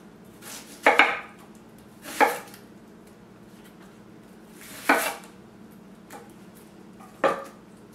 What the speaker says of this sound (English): I'm just gonna peel all of this so that we can get this onion cut up